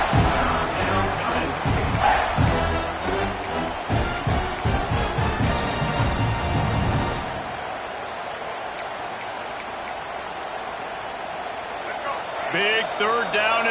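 A football stadium crowd at a Clemson versus FSU game roars for a big third down, loud and sustained over commentary, then drops away suddenly midway before a brief swell near the end.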